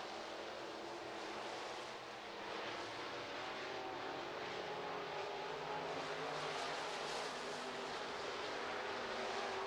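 Sprint cars race around a dirt speedway during a final heat, their engines forming a continuous distant roar that swells and fades slightly as they circle the track.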